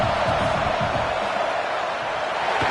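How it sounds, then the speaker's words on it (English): Loud, steady stadium crowd roar at a football game during a field goal attempt, a dense wash of cheering and yelling with no breaks. "This crowd trying to do its part to get inside the kicker's head."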